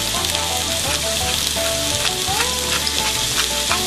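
Onions seasoned with salt and black pepper cooking down in a frying pan, a loud, even sizzle close by with faint scrapes and clinks of stirring, no speech.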